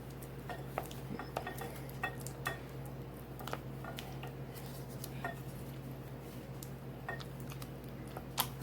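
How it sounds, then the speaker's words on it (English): Cheese spread mixture being stirred in a bowl before herbs go in, a steady run of soft scraping clicks and taps of utensil against the bowl, close and fairly quiet. "we're going to mix these 2 together until it's nice and creamy"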